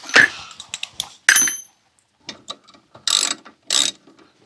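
A hand ratchet tightens brake caliper bolts on a 1998 Mercedes-Benz C230 during a brake overhaul, with several short bursts of rapid clicking separated by pauses, close and fairly loud, with no voices.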